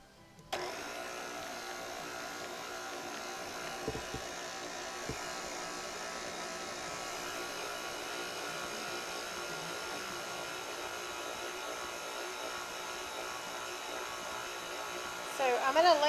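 Electric mixer kneading yeast roll dough, a constant buzzing motor whine that starts abruptly after a brief pause and holds steady for the whole stretch, with a small clatter near the end.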